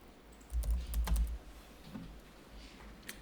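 Computer keyboard keys are tapped a few times in quick succession, including the tab key, quiet and close against faint room noise.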